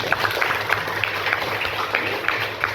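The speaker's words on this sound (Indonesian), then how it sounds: "Tepuk tangan buat Raffi dan Retno." A classroom of students claps for Raffi and Retno, a short, fairly loud burst of scattered hand claps with murmuring voices mixed in.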